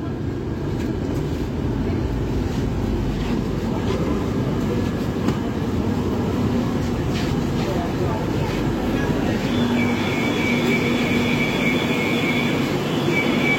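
A Kolkata metro train on the Green Line pulls into Tollygunge station, giving a loud, steady rumble of the carriage with a faint high tone appearing toward the end.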